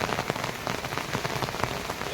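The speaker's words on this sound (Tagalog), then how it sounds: "bumabalik na naman yung malakas na ulan" Heavy rain falls in a continuous dense patter with scattered louder drops, steady and close, heard alone.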